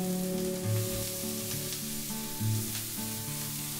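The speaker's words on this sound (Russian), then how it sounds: "Натертую морковь отправляю в сковородку к уже поджаренному луку." Steady sizzling of grated carrot frying in a pan with already-fried onion, a continuous crackle with faint tonal music running underneath.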